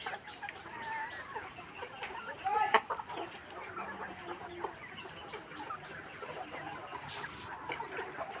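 Farm chickens cluck continuously in a busy chorus while feed is stirred, with scratchy rustling and occasional sharper calls over steady background noise.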